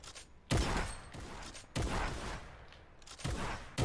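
Three loud, sharp gunshots from a video game 1v1 match, each ringing out with a long decaying tail, fired about a second and a quarter apart.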